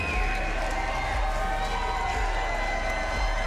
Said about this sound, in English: the crowd here in Sioux Falls, South Dakota is going berserk for Bailey Berserk Schoenfelder